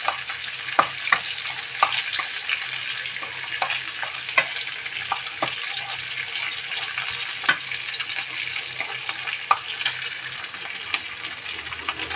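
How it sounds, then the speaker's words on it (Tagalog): Garlic fries in a pan, a steady close sizzle with scattered clicks and scrapes from stirring, running for the whole stretch with no talk over it. "So, okay, the garlic is already cooked."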